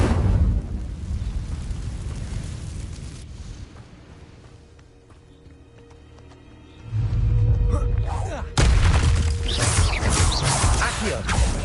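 Incendio fire spell in the game Hogwarts Legacy, loud roaring bursts of flame and rumbling blasts that drop away briefly then surge back twice, with a voice calling out over the effects.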